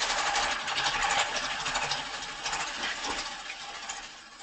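A sewing machine bastes around the edge of a ballet bodice, its motor running in a steady, fast mechanical whir that eases slightly near the end.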